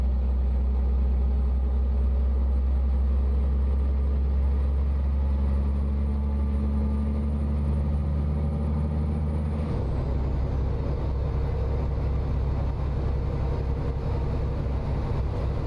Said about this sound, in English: are you guys able to hear the engine a little bit better since I turned it up some